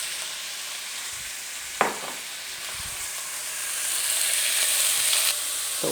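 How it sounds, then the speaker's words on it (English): Shrimp sizzle in a hot pan with olive oil, a steady close crackle and hiss with a sharp utensil clack and soft stirring scrapes, swelling a little louder near the end. "That's the sizzle we want to hear."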